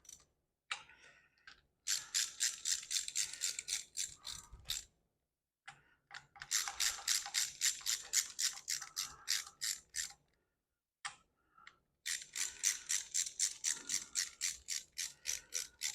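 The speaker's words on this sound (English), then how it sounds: "These are a 9/16 head, so we're going to go ahead and snug all these down." Ratchet wrench snugging down 9/16-inch intake manifold bolts on a small block Chevy, heard as three bursts of rapid, even clicking separated by short pauses, close and alone with no talk.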